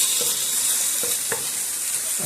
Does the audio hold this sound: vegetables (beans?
yes